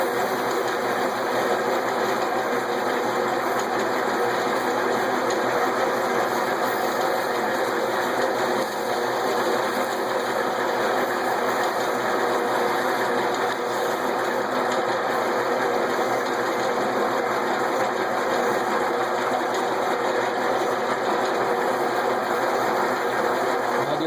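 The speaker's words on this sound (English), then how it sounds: "Just gonna start water sanding here." A wood lathe spins steadily as a segmented Christmas ornament with two finish coats is wet sanded with 400-grit paper, a continuous even whirring hum with a hissing sanding texture throughout.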